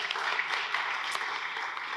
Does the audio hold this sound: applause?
yes